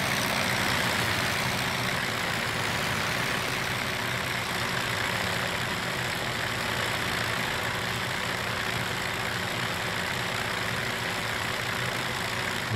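A Piper PA30 piston engine in a flight simulator idles at 1000 rpm as a steady, unbroken low drone with a faint whine on top, holding at an even loudness throughout, with no voices.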